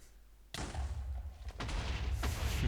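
A Minecraft explosion sets off with a sudden loud boom and a rumbling tail, followed by further blasts and crashing debris in the game world.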